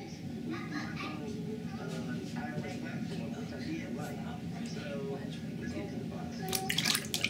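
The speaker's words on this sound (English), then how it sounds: "Nobody's crazy enough to dunk an iPhone 5 in the water twice but me." An iPhone 5 sealed in an Incipio Atlas waterproof case is dunked into water, with a steady gurgling, dripping wash throughout and a brighter splashy burst near the end, while a voice talks softly underneath.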